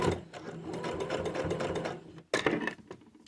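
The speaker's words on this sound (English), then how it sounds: "You can backstitch and go forward with this. And that just locks in the stitches. And you just keep sewing along." A sewing machine fitted with a twin needle stitches steadily along a seam, its rapid mechanical whir continuous and close, then pausing briefly before running again.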